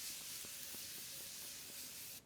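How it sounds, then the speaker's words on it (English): Morphe Continuous Setting Mist sprayed onto a face, a steady close airy hiss of fine mist lasting about two seconds and cutting off abruptly at the end, with no talking. "So I'm gonna go ahead and spray this all over the face."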